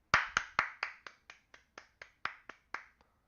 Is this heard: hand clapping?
yes